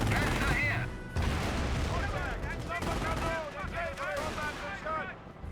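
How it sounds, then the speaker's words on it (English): Battle sounds from Company of Heroes as an incendiary mortar fires, with dense, continuous booms and gunfire across the clip alongside constant game noise and scattered voice-like calls. "Looks like incendiary mortar got fired."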